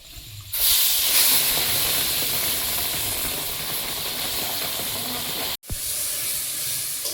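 Spice paste with tomato hits hot oil over turmeric-fried potatoes, setting off a sudden loud, hissing sizzle that holds steady, cut by one brief break before resuming.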